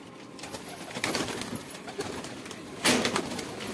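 Domestic pigeons coo softly in a flock, with several overlapping murmuring calls and a louder burst near the end that may include wing flutter.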